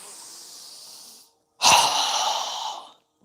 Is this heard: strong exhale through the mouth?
yes